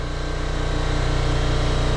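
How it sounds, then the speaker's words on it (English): A 1999 Yamaha YZ125 two-stroke engine turns over while grinding aluminum debris inside, giving a loud, steady rhythmic churning that stays even throughout with no voices. "Let's use our engine as an aluminum grinder."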